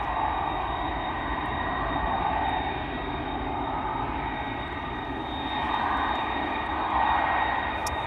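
Airbus A330 jet engines roar during a departure at Amsterdam Schiphol Airport, a loud, sustained broadband rumble that swells and eases slightly as the aircraft turns, heard alone without voices.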